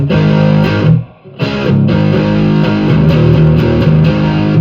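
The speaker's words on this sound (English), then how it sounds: "Here's the kind of the distortion sound." A heavily distorted electric guitar, a Reverend Eastsider S T-style, chugs through a riff, loud and close, with a brief drop in the middle before continuing.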